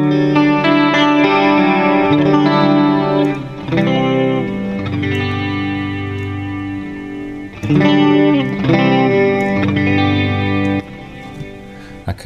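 Electric guitar chords through the Pro Tools Eleven amp simulator with delay, repeating echoes trailing each chord, swirling and loud, changing every few seconds.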